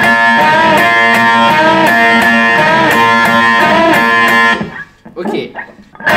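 Slow electric guitar phrase with a string bend on the third string, sustained distorted notes ringing loud for about four seconds before stopping, followed by a few softer sounds.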